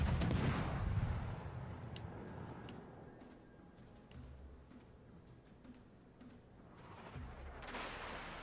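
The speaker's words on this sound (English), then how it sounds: "why are you shooting now?" Naval gunfire from warships in World of Warships: Legends, a heavy boom opening the clip, then rumbling salvos and scattered sharp reports at moderate distance, swelling again near the end.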